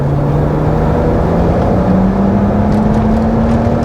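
A BMW E90 335i with the N54 engine pulling under load while misfiring, a loud, dense engine roar with a slowly rising pitch, steady and close, with no talk over it.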